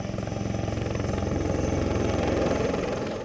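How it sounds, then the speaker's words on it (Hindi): HAL Light Combat Helicopter (LCH) flying, its rotor beating in a steady, rapid chop over a loud continuous engine drone, close and sustained throughout with no voices. "भारत में बना पहला लड़ाकू helicopter light combat helicopter LCH"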